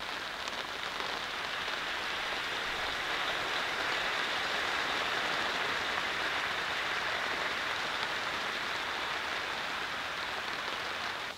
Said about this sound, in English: Hopefully this rain holds off.